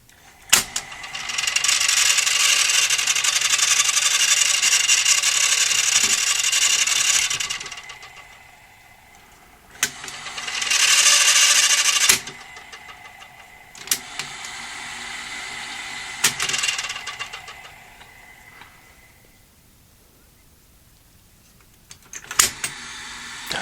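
Toshiba Betamax V5470B video recorder laces up its tape: a quiet motorised whirring in several bursts separated by soft mechanical clicks and clunks, close up and with no talking.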